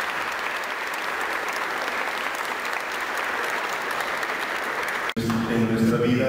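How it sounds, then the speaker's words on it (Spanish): Congregation applause at a Catholic quinceañera celebration in Tula, Tamaulipas, a steady dense wash of clapping that holds for about five seconds, then cuts abruptly as a voice begins speaking. "Y le damos un aplauso"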